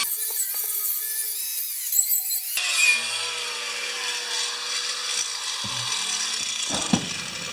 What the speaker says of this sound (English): I'm just getting the rust off it now.